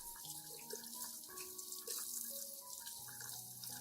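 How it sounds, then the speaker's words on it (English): A gentle, steady stream of water runs over plant roots while they are rinsed, making a soft continuous splashing hiss close by with no voices. "When rinsing, you should use a gentle stream of water and wash very carefully around the base and root system"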